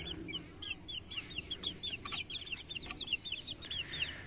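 Sonali chickens on a small poultry farm cluck in a busy, irregular chorus of short, bright calls, several birds close by over a low murmur of background noise, with no talking.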